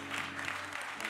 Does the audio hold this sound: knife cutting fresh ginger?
no